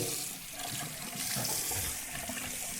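Hot water runs steadily from a bathroom tap into a sink during a wet shave, a close, continuous hiss and splash with no talking.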